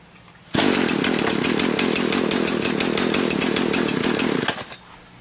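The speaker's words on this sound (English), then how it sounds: "for a warm start, all you have to do is pull the starter rope" A warm Stihl leaf blower fires up on a pull of the starter rope. Its loud two-stroke engine roars at once and runs steady for about four seconds, then cuts off abruptly.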